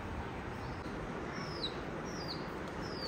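A baby chick peeps in a few thin, high chirps spaced about a second apart, faint over a steady background hiss.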